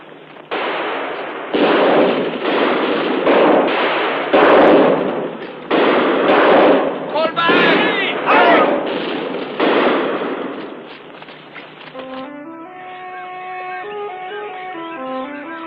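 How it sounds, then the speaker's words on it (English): Staccato gunfire rattles in a battle scene from the 1963 film Sandokan the Great, dense loud volleys of shots for about twelve seconds, then giving way to a burst of orchestral music. "Hirubatol, Fatan, Champion, return their fire and try to catch up with us, all right?"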